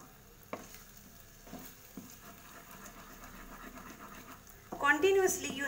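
Scrambled egg bhurji being stirred and scraped in a frying pan, soft intermittent scrapes over a faint sizzle, with a person speaking loudly near the end.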